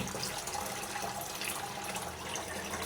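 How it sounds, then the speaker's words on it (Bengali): Snails being rinsed in clean water, a soft, steady splashing and trickle of water close by but fairly quiet, continuous for a few seconds with no talk. "এভাবে তিন চারবার পরিষ্কার পানিতে ধুয়ে নিচ্ছি"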